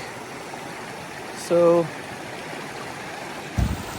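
Baker Creek flowing at a camp spot, a steady broad rush of water running throughout, with a brief spoken word and a short thump rising above it.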